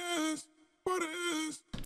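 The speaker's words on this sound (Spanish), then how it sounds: "Y tan solo con este pequeño cambio del pitch ya tenemos el efecto y suena así" A reggaeton-style vocal, pitched up with the Little Alter Boy plugin, sings two short sustained phrases with a brief gap between them. It is dry and close, with a bright, slightly synthetic tone, and a clipped fragment sits at the end.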